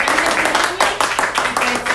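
An audience claps for a champion at a business presentation. The applause is dense and steady, with rhythmic surges, at moderate loudness and with some voice mixed in.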